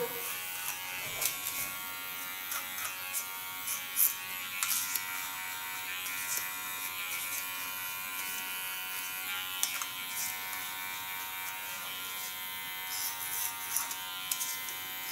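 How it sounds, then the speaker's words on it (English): A large T.K.S electric hair clipper cuts hair during a salon trim with a flat comb, giving a steady, close, high-pitched buzz that runs unbroken throughout, with a few small clicks and shifts in tone. "with my large flat comb, I do the underline using my large T.K.S clipper"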